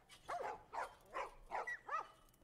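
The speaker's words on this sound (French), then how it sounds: "Insupportable, les chiens qui n'arrêtent pas d'aboyer." Dogs bark repeatedly in The Last of Us Remastered on PS4, five evenly spaced barks at moderate distance, sharp and somewhat yelping, with no talk over them.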